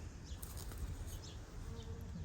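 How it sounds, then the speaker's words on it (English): Bees buzzing among garden plants near red currant bushes, a steady soft hum with faint wingbeat flickers over low outdoor background noise, no talk. "Some bees."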